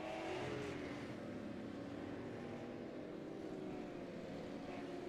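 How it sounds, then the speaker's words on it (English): Super late model race cars circle a short track, a steady loud engine roar with broad rumbling noise holding throughout, no voices over it. "Short track racing with super late models."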